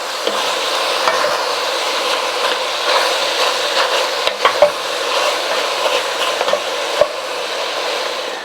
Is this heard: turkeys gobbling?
no